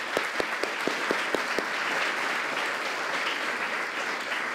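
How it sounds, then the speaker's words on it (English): An audience at a tax policy fireside chat breaks into applause, opening with a few distinct close claps in a quick rhythm that swell into a full, steady wash of clapping, moderately loud with no speech. "We should give a hand of applause to Michael."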